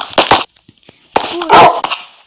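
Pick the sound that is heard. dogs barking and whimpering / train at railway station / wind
dogs barking and whimpering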